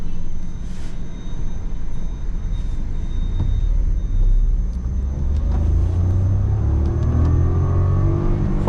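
A 2025 Maruti Suzuki Swift drives and accelerates, its engine rumbling steadily and rising in pitch toward the end, heard up close from inside the car with no one talking.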